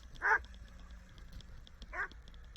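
A big guard dog gives two loud barks about one and a half seconds apart, close by, with a low rumble of background noise between them.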